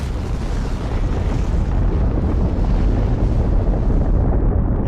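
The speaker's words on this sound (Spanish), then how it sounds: "una bomba atómica cayó sobre Hiroshima" A loud atomic bomb explosion over Hiroshima in 1945, a continuous, dense roar that rumbles on without a break for the whole stretch, with no voices.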